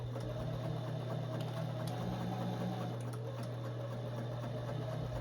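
A sewing machine runs steadily while stitching the side seams of a three-tiered maxi dress at a half-inch seam allowance, a close, continuous mechanical hum and whir with no pauses.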